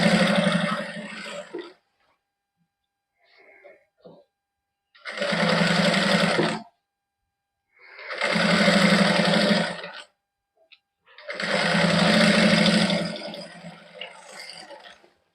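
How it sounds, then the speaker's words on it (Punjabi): Domestic sewing machine stitching a salwar, heard in four separate whirring bursts of a couple of seconds each, with short quiet pauses between them, close and clear. "ਹੁਣ ਆਪਾਂ ਫੇਰ ਸਲਾਈ ਲਾਵਾਂਗੇ"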